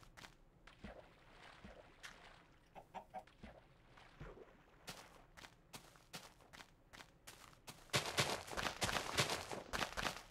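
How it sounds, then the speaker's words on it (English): Chickens in the video game Minecraft beta 1.7.3 cluck in short scattered bursts, quiet at first and growing denser and louder toward the end, with faint footstep-like taps between and no talk. "Chicken's always getting stuck in the water."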